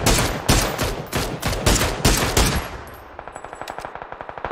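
Rapid automatic gunfire in the battle-royale game PUBG, with an SLR in play: a loud, even burst of shots for about three seconds, then a quicker, fainter stream of shots rattling in the distance.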